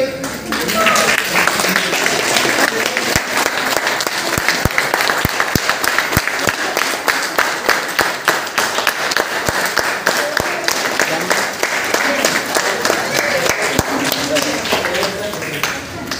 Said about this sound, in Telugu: క్లాప్స్ ఆపద్దు